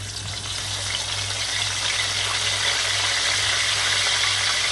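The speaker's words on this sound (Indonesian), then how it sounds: "Oke, sekarang saatnya kita goreng ayamnya." Chicken for ayam goreng kalasan fries in hot oil, giving a steady, dense sizzle and crackle that stays loud and even throughout, with a faint low hum underneath and no talking.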